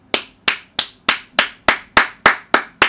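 One person claps hands alone, ten sharp, evenly spaced claps, close and fairly loud, with no talk.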